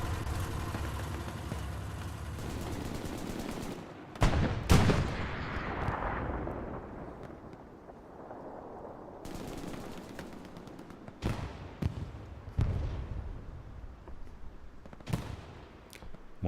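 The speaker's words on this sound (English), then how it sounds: "One explosion to the back here at a transport truck." Battle sounds in Hell Let Loose on the Omaha Beach map: sharp, loud explosions and bursts of gunfire at irregular intervals, some close and booming, others more distant, over a rumbling background with no talking.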